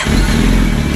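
Loud, close engine sound from a 2007 Yamaha R1 sport motorcycle after a starter rebuild, a steady, dense rumble held for about a second with no pause and no voices.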